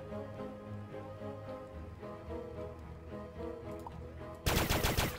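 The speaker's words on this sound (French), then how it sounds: "Ouh, ça tire vite." A rapid-firing gun in Starbound cuts in near the end with a loud, dense burst of fast shots over the game's steady background music.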